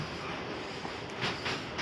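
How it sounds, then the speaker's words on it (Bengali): A passenger train crossing the Bally Bridge (Vivekananda Setu) in Kolkata gives a loud, continuous rumble and roar, with faint rhythmic clatter near the end. "ট্রেন বালি ব্রিজ মানে বিবেকানন্দ সেতু পেরোচ্ছে"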